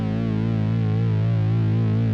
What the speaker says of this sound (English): So you can hear now all 3 oscillators